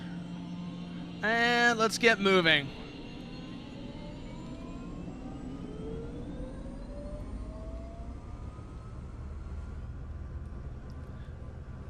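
A jet engine spools up in the flight game Nuclear Option, a rising whine climbing steadily in pitch over a low steady roar, with a short spoken line near the start.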